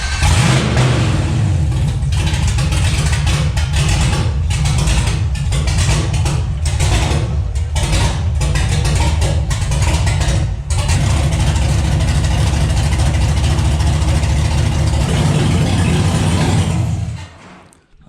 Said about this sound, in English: The truck is now running, and it doesn't run great.